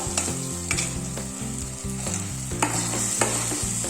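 Cooked vegetables, including soft tomatoes, are mashed in a pan for Mumbai-style street-food pav bhaji, giving steady stirring and squelching with a light sizzle and repeated soft thuds throughout.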